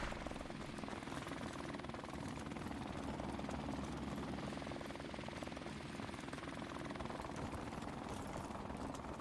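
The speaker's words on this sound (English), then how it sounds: "Chopper ain't doing nothing." A killstreak attack helicopter in the video game Modern Warfare Remastered, a steady loud rotor thump and engine drone that holds throughout without a break.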